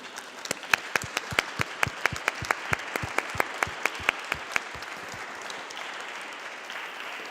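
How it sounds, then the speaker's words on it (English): A small audience claps for InterChurch Bioethics Council members asked to stand, sparse distinct hand claps at first that thicken into softer, blended applause before fading. "if you give them a round of applause"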